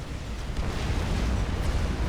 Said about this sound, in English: Don't often see 3 T2 mixers killed at one bomb.